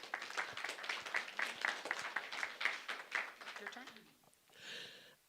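Church congregation applauding in a dense, steady burst of many hands clapping for about four seconds before it fades, followed by a brief soft sound.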